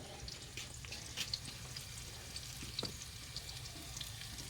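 Chicken feet sautéing in a pan over a wood-fired clay stove, a soft continuous sizzle with light stirring scrapes and occasional clinks, quiet and steady with no voices.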